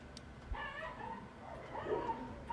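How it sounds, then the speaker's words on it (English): Several dogs bark faintly outdoors in the distance, scattered yips and woofs over a low background hum, heard indoors through an open window. "sorry if you hear dogs in the background."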